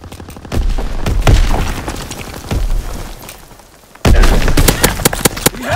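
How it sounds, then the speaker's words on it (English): A sticky bomb goes off and gunfire erupts in Call of Duty WWII on the Gibraltar map, with sharp close shots and booms in two dense bursts separated by a brief quieter gap. "Throw a sticky bomb!"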